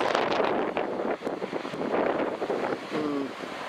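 Strong wind buffets the microphone at a Sendai beach, over a continuous roar of surf waves, loud and close, with only faint, scattered background noises.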